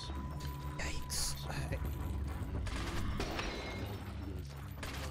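Gunfire from the video game Resident Evil 4 sounds as a few quick, sharp mechanical shots and clacks over a low game soundtrack, fairly quiet overall, with no one talking.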